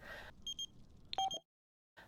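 A phone rings in The Sims video game: a pair of short electronic chime bursts, then a brighter two-tone ringtone, each standing alone and followed by a silent gap.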